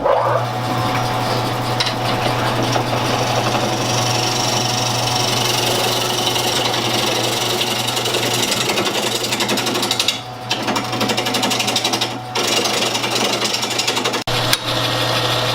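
Wood lathe spinning a bowl blank held by the tailstock, a steady loud hum with a constant low drone and dense scraping of the gouge rounding the wood, broken by two short pauses in the cut.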